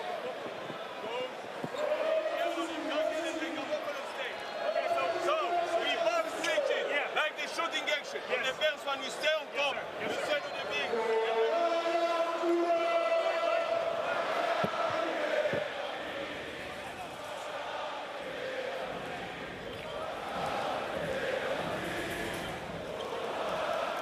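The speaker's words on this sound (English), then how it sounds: "Crowd staying at fever pitch" A packed basketball arena crowd during a Maccabi Tel Aviv versus Panathinaikos game roars and chants loudly and continuously, with a commentator talking over the noise.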